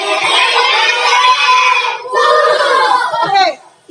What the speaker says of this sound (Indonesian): Beri tepuk Superman.